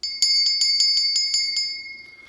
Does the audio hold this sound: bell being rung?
yes